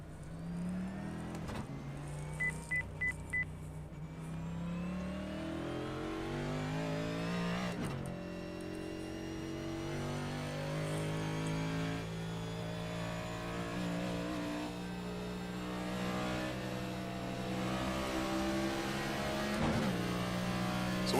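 Race car engine on the Kentucky track holding a loud, steady harmonic drone, with abrupt pitch drops at gear changes as it downshifts into fourth, then climbs again.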